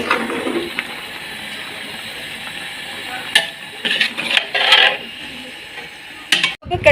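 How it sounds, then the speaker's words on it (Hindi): Chickpeas fry in a pan while being prepared as food for an Eid Milad un Nabi gathering. A steady background sizzle runs throughout, broken by several bursts of stirring and scraping, with a few voices audible in the background. "तो चने वाला फ्राई बनाने लगे हैं"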